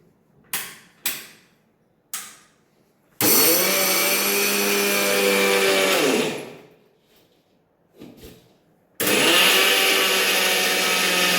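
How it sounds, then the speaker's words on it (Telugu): A mixer grinder grinds cooled, roasted flax seeds for laddus. A few short knocks come first, then two long, loud, steady grinding runs that stop abruptly. "ఇప్పుడు మిక్సీకి వేస్తాం."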